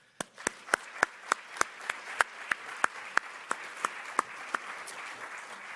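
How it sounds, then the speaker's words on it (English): Clapping at the 2011 Indie Game Challenge awards: a steady series of sharp, evenly spaced claps, about three per second, close and distinct over faint room noise. "I just want to give you guys another round of applause"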